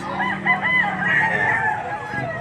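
A rooster lets out one long, close crow among chicken sellers at a market, with faint voices in the background.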